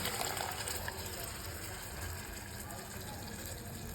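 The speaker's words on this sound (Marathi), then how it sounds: "आता आपण कोळदाच्या पिठीचं जे आपण पाणी तयार करून ठेवलं आहे ते पिठीसाठी आता आपण ओतून घेऊया" Horse gram flour mixed with water is poured steadily into a pan, making a soft, continuous watery gush that stays even and fairly quiet for the whole stretch, with no talking.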